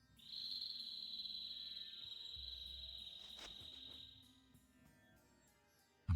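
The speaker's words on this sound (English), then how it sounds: "A bird? In this desert? It sounds close." A high, thin bird call sounds in a desert area of the Tales of Vesperia video game: one steady whistling tone held for about four seconds over a low ambient hum, with no talk.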